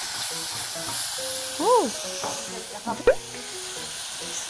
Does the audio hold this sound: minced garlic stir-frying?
yes